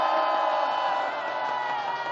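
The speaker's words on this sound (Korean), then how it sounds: "이 무대를 같이 준비했던 우리 스태프분들, 중계 맡아주시는 유튜버 분들께 큰 박수 부탁드리겠습니다" A large crowd at an outdoor candlelight protest rally claps and cheers in a sustained, loud roar, dense and continuous throughout with no break.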